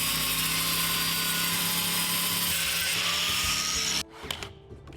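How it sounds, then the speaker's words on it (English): An angle grinder trims excess foundation covering on an off-grid cabin build in the woods, giving a loud, steady whining roar for about four seconds before cutting off into quieter scattered handling noises. "Then we trim off the excess with an angle grinder."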